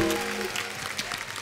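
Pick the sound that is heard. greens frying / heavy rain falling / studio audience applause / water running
studio audience applause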